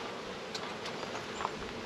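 Bees hum faintly around beehives during a new package installation, a soft steady drone with a few brief individual insects passing close.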